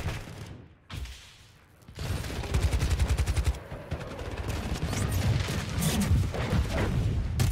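Video-game combat with rapid bursts of gunfire and heavy airstrike booms, loud and dense, starting after a brief lull and then rattling on almost without pause.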